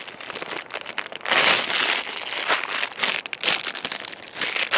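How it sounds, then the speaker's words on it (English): Safety glasses being pulled out of their plastic packaging: continuous close crinkling and crackling of plastic for several seconds, with busy, uneven bursts and brief louder crunches. "Took these guys out of the plastic."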